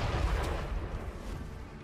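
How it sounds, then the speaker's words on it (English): Explosion in a video game, heard as a low, rumbling boom that swells at the start and then rolls on steadily at moderate loudness, with no voices over it. "I'm waiting for the next explosion."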